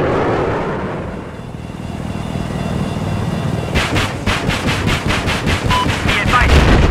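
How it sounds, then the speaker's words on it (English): Enemy machine gun fire during a Battlefield 4 multiplayer match: a steady run of rapid, evenly spaced automatic shots over a constant rumbling battle din, loud and fairly close. "enemy machine gun."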